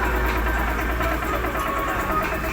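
Steady low rumble of an engine idling in a workshop, a continuous close hum with even vibration and no talk throughout.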